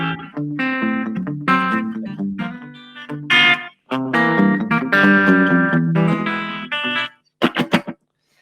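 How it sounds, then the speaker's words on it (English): Electric guitar notes and chords played with a short slapback echo, each note followed by a quick repeat, moderately loud with brief pauses near the end. "it almost gives you a little bit of a slap back delay"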